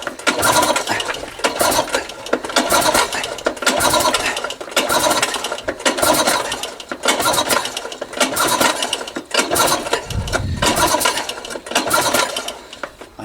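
An old Tohatsu 3.5 outboard motor, unrun for two to three years, is pull-started: a steady string of rapid, rattling mechanical cycles that rise and fall in repeated bursts, loud and close, with no voices.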